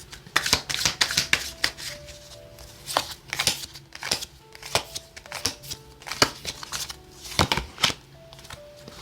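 Tarot cards being shuffled and drawn on a table: a busy run of crisp riffling snaps and soft slides, close and uneven in rhythm, with faint tones in the background and no talk.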